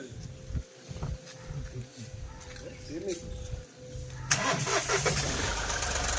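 A car engine cranks and catches near the end, roaring into life after a stretch of people talking over quiet background noise.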